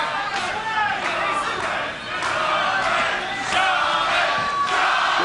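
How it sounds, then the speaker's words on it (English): At the Chavez vs. Leija fight, a hometown boxing crowd cheers and yells for its fighter in loud, surging waves with repeated sharp bursts of shouting. "Hometown crowd certainly supporting their fighter."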